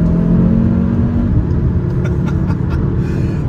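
Cupra Formentor VZ5 accelerating hard on the road, a steady loud engine drone rising in pitch over the first second, then continuous rumbling road and engine noise.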